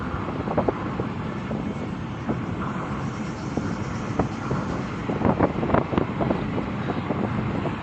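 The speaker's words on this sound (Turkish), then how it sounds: "Tabi her yerde olduğu gibi burada da rüzgar var." Steady northeasterly wind buffeting a microphone in Ayvalık, a constant rough roar with gusty thumps throughout, no voices.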